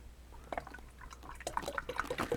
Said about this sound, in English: Now I'm going to pour this into the water.